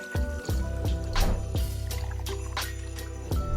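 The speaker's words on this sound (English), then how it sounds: "Starting with the rocks glass, I'll be adding in my 2 ounces of vodka." Two ounces of vodka poured into a rocks glass at a home bar, a short steady trickle with rhythmic glugs and splashes, close and alone.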